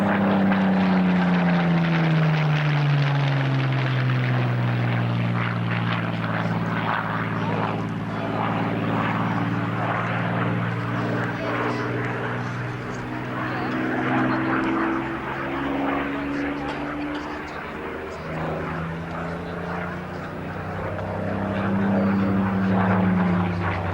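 A propeller aircraft drones overhead at the RAF Abingdon airshow in 1990, a loud continuous engine roar with pitch sliding as it passes, with faint commentary mixed in.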